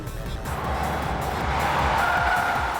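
A Nissan GT-R and a Mitsubishi Evo 7 race close by, their loud engine roar mixing with skidding tires in a steady, continuous rush of sound.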